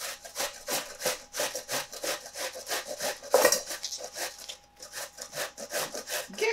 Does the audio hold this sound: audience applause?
no